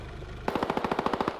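Rapid automatic gunfire in the military shooter game Squad, a burst of about a dozen sharp evenly spaced shots, loud and close over a low background hum.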